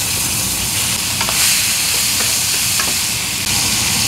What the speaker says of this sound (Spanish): Ya que haya derretido la mantequilla, van a poner su camarón y solo que cambie de color